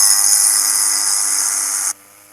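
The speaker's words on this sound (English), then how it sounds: "And so here I am, for example, doing my chainsaw trimming." A small Homelite XL chainsaw with a faulty oiler trims wood with a loud, high, steady whine for about two seconds, then cuts back abruptly to a quieter idle.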